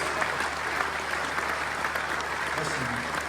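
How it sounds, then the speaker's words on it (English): Festival crowd applause at The Gathering Festival 2025: a dense, steady patter of many hands clapping throughout, fairly close and unbroken, with a bit of voice chatter mixed underneath. "Oh, you didn't get much of a round of applause, mate."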